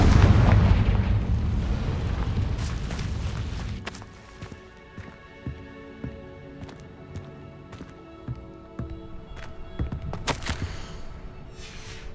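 Confringo spell explosion in the Hogwarts Legacy video game: a loud, roaring blast fills the first few seconds, then fades into scattered sharp crackles and impacts over a quieter game background.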